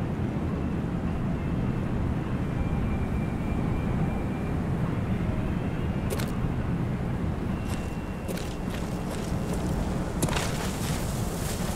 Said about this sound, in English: Our counter spy plane's in the air.